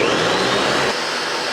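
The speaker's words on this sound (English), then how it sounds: "Everything goes into a blender with some cream cheese" A blender whirs loudly, pureeing roasted poblano peppers and tomatillos with cream cheese, chicken broth and bouillon into a sauce, a steady high motor roar that drops slightly in pitch partway through.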